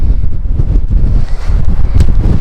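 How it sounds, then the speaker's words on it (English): Strong wind blowing off the sea on a cliff-top walk, buffeting the microphone in loud, gusty low roars throughout, with no talking. "Oh wow, very blustery."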